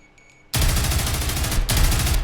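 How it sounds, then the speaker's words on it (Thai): Rainbow Six gunfire bursts in after a brief quiet moment, a very loud, dense volley of rapid shots that breaks off for an instant and then resumes just as hard. "เสียงปืนแบบดังมากครับ"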